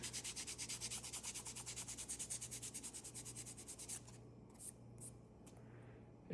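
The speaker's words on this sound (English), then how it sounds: "You just sand it enough to get the look, you know, that you're looking for." Light back-and-forth sanding on an HO scale Walthers Interstate Oil Company model building, quick rhythmic rubbing strokes for about four seconds, then stopping with a few faint handling sounds.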